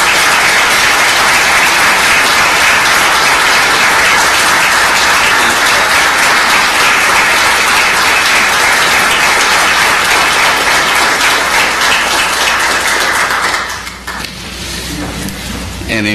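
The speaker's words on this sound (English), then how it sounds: "We do allow clapping, see, once in a while." A city council meeting audience claps for the police department in loud, sustained applause that fills the room, then fades near the end.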